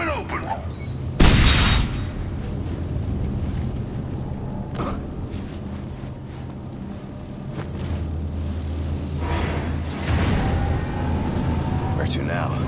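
A bomb in the video game Enslaved: Odyssey to the West blasts open a blocking panel, one sharp loud boom early on followed by rumbling debris and lingering mechanical game ambience, with characters talking around it.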